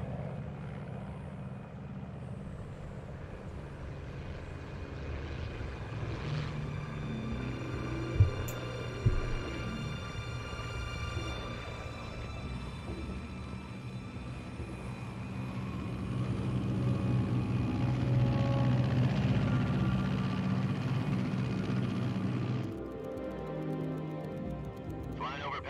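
Steady low drone of an aircraft flying at altitude in the Metal Gear Solid Snake Eater video game, a continuous engine hum that swells slightly near the end, with tonal layers over it and no talk.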